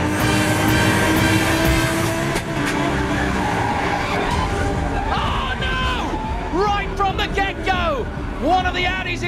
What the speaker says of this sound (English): One of the Audis is out, spun right round at the first corner.